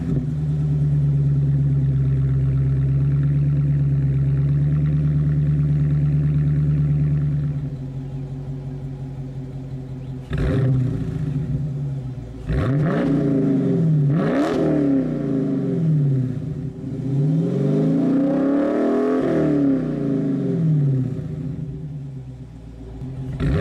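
A car engine in sport mode idles with a low rumble, then revs repeatedly in sharp rising and falling bursts, loud and close, with no talking.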